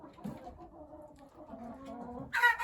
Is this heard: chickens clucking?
yes